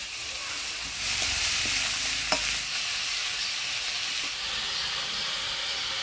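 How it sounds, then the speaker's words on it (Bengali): Bottle gourd dropped into a hot cumin and bay leaf tempering, a continuous loud sizzle and hiss with a few knocks of the spoon against the pan near the start. "ফোড়নে দিয়ে দেবো জিরা তেজপাতা, দিয়ে দিচ্ছি কাটি রাখা লাউ"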